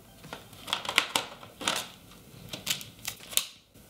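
Plastic hula hoop segments snap and click shut with sharp, close clicks at irregular intervals, several in quick succession and no voices over them.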